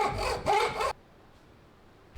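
Saw cutting a slit into the end of a wooden dowel, three quick rasping back-and-forth strokes up close, then a short stretch of quiet.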